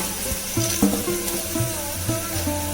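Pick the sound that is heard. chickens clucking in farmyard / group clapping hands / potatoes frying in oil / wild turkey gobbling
potatoes frying in oil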